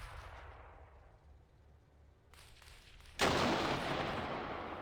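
Armored vehicles trade fire in the Cold War arctic battle simulation Armored Brigade 2, with a distant rumble fading before a loud, sudden blast of gunfire that keeps roaring for a couple of seconds.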